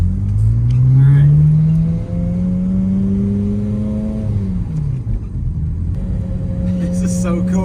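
Ferrari F355 Challenge driving off, its engine loud and close, climbing in pitch through revs, dipping at a gear change, then pulling again, with people talking over it.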